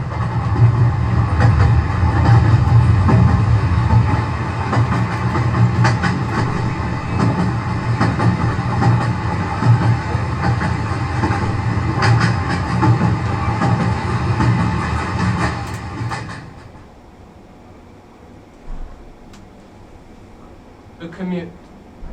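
A theatre sound effect of a train passing at a railway platform, with a loud, steady rumble and clatter of wagons for about sixteen seconds that then fades, leaving quieter platform ambience with a brief squeal.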